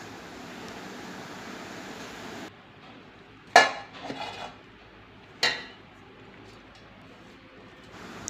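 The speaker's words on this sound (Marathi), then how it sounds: "आपण मिक्सरच्या भांड्यामध्ये टाकून घेऊयात." Chillies, salt, onion, tomato, garlic greens, turmeric, cumin and asafoetida are dropped into a mixer jar, giving two sharp metallic clinks a couple of seconds apart over a faint background hiss.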